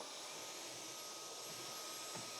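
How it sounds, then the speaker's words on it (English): A vacuum cleaner runs steadily throughout, a continuous broadband whine with a faint high tone, loud and close, with no speech over it. "I might also need to vacuum because I have my Huskies fur there"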